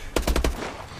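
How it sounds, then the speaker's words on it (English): A quick burst of about four automatic gunshots from the Call of Duty Advanced Warfare shooter, loud and close, rapid and evenly spaced, then fading into a short reverberant tail. "So many shots fired!"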